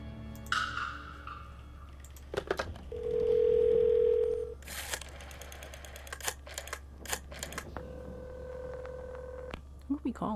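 A telephone in the video game Phantasmat is dialed: quick button clicks and beeps, a sustained steady tone, then another held tone, with sparse clicks and faint background hum in between.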